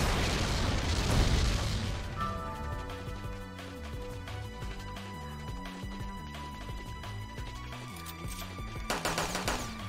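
Gunfire erupts in the video game Metal Dogs: a loud, dense burst of shots opens the scene, then scattered pops ring out over tonal game music, with another sharp volley near the end.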